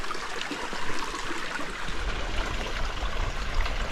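Stream water at a trail crossing on a mountain backpacking route, flowing steadily with a continuous broadband rush and trickle, nearby and moderately loud, with no talking.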